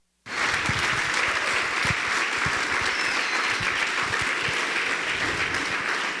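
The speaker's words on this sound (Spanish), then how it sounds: "Alguien dele un aplauso fuerte al Señor en esta hora." Church congregation breaking into loud, sustained applause after a sharp onset, a dense wash of many hands clapping steadily for about six seconds with no speech over it.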